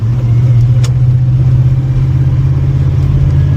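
A 1992 Holden Commodore VP SS with a 5-litre V8 and manual gearbox runs in a loud, steady, deep engine drone, close by and continuous throughout with no speech.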